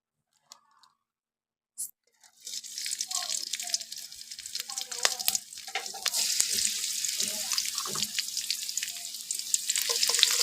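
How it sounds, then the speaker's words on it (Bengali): Chili, chopped onion and garlic drop into hot oil after a near-silent pause, then a steady close sizzle and crackle builds and carries on for the rest of the stretch. "মরিচ, পেঁয়াজ কুচি, রসুন কুচি, এগুলো সবগুলো আমি তেলে দিয়ে দিব।"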